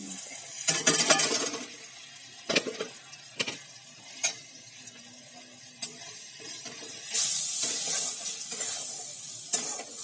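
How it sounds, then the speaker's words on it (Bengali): Spice masala with salt and sugar being sautéed in a pan for a pointed gourd curry, a soft sizzle broken by sharp scrapes and clinks of a spatula against the pan, with a louder hiss swelling toward the end. "মশলাটাকে একটু কষিয়ে নিতে হবে ভালো করে"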